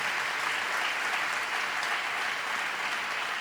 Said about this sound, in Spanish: Demos un fuerte aplauso a Jesús.